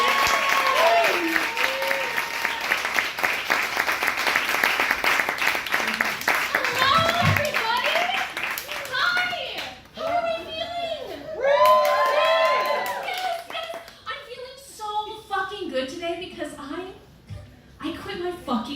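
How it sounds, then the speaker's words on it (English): A comedy show audience breaks into loud applause and cheering for a comedian, dense clapping for about nine seconds, then whoops, shouts and chatter trail off. "give him a round of applause"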